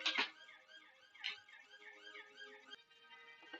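An ambulance siren wails in repeating rising-and-falling sweeps, fairly faint and somewhat distant, with a couple of sharper bursts near the start.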